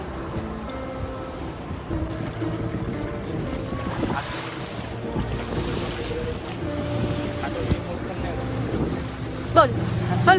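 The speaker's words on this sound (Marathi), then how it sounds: "आहे आमची बोट आजची फिरायला जायची." Boat ride on the sea off Goa, with a steady engine drone, water wash and wind buffeting the microphone throughout, while people talk over it nearby.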